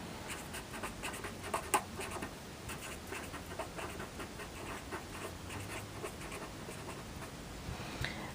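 Pen or marker strokes as a parallelogram is drawn by hand for a vector lesson: quiet, close scratchy scribbling in short repeated bursts with no talking.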